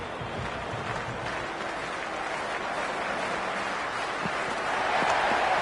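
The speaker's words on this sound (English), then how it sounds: "It's almost palpable, the excitement emanating from this crowd at the moment." A large stadium crowd at an India vs Pakistan ODI cricket match roars in a continuous broad wash of cheering and applause that swells slightly toward the end.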